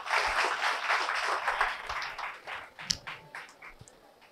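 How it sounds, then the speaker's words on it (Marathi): A classroom claps for two students during a physics lesson on mirrors, a brief burst of applause that thins out into a few scattered claps. "दोघांसाठी टाळ्या वाजवा"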